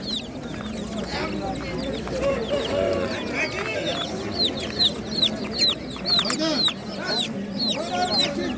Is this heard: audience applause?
no